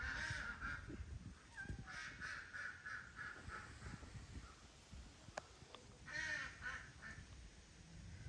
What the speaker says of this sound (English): I can hear all the ducks laughing at me.